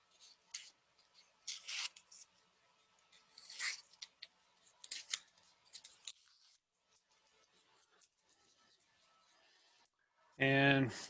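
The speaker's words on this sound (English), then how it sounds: "I'm going to pull the double-sided tape off." Double-sided tape peeled off a CNC-milled wood tray part in a quiet shop, coming away in several short tearing rips and rubbing scrapes with pauses between them, fairly close and moderate in level.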